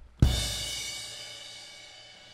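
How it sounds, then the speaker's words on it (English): A single crash cymbal hit bursts out close and bright, then shimmers and slowly fades over a couple of seconds, with nothing else heard. "This one right here is called a crash cymbal."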